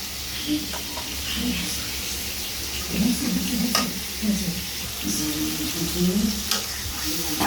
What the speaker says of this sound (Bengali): মাছটা ওদিকে ভাজা হচ্ছে আর একদিকে আমার তরকারিটা কষিয়ে নিচ্ছি